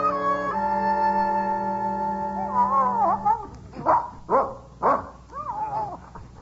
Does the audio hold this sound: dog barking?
yes